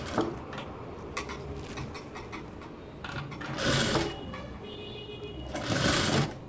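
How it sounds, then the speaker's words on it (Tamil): A sewing machine stitches chudidar fabric, its steady mechanical whir running throughout with two louder bursts of fast stitching near the middle and end, close and clear with no talk. "இது மாதிரி கிளாத்தை நேர் பண்ணிவிட்டு தையல் போட்டுக்கோங்க"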